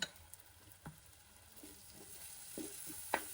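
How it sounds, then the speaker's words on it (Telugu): Curry leaves and ginger garlic paste fry with onions in a pan, giving a faint, steady sizzle broken by a few soft clicks and scrapes of stirring. "ఇప్పుడు ఇందులోకి కొద్దిగా కరివేపాకు కూడా వేసుకొని అల్లం వెల్లుల్లి పేస్ట్ కూడా వేసుకొని వేపేసుకుందాం."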